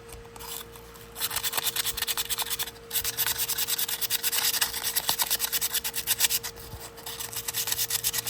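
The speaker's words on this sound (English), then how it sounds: "I'm just going to take a piece of 240 grit and go over the inside of the well with it." Strokes of 240 grit sandpaper rub back and forth inside the spring well of an old Wards celluloid camp knife, a close, steady raspy scrubbing in bursts with brief pauses.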